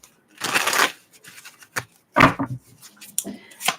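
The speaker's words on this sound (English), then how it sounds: "All right, last shuffle." Tarot cards are shuffled in a few quick riffling bursts with brief pauses between, close and crisp, no talking.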